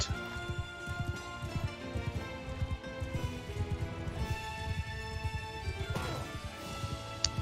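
Horse hooves clip-clop in a rapid galloping rhythm during a Bannerlord battle, with loud, close, repeated thuds and a brief crash of impact near the end.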